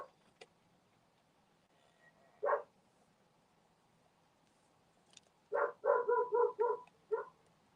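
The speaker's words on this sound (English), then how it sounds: "You guys hear the dogs?" Dogs bark in a short distant burst, then a run of several quick barks and yips a few seconds later, clear against a quiet background with no talking.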